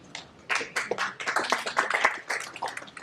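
Scattered applause from an audience at a Marathi talk, quiet and uneven, with a few clusters of hand claps rising and falling rather than a full ovation.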